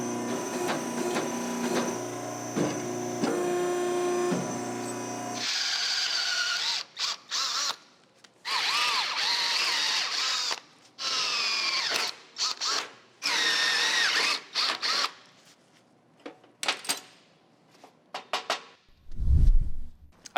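A power tool cuts a metal strip to length for a classic Camaro build, a loud whining, screeching grind in repeated bursts with pauses between, close by and without talking.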